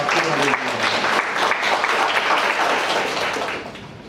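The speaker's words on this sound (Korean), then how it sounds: "박수 부탁드립니다" A symposium audience in a hall gives a steady round of applause that holds strong, then tapers off in the final half second.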